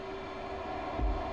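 F/A-18C Hornet jet engines in the DCS flight simulator throttling up for a carrier takeoff: a steady droning engine whine with a sustained tone and a rumbling swell toward the end, heard alone.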